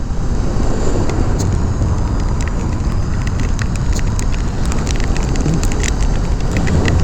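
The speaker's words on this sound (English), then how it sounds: "Rain's starting to come down a little more now" Steady broadband rush of rain and road noise while riding a Kawasaki Z7 Hybrid motorcycle, a continuous loud wash with scattered sharp patter throughout and no speech.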